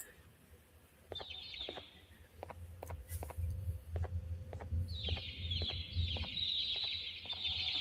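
In the video game Garten of Banban, baby birds chirp in faint, high, fluttery bursts, mixed with soft clicks and taps over a low rumbling background.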